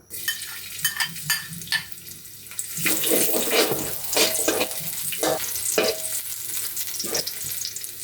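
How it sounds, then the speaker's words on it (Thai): Four cloves of Chinese garlic frying in a tablespoon of oil for a Thai pork belly stir-fry: a few light taps at first, then a loud, crackling sizzle with stirring scrapes that fills the rest. "เราจะเจียวกระเท ียมก่อนนะครับเติมน้ำมันลงไป 1 ช้อนโต๊ะครับ"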